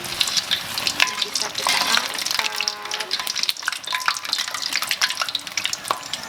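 Tofu martabak frying in a shallow amount of hot oil while being stirred: a dense, close sizzle with scraping and clinking from the stirring utensil, steady throughout, no voices.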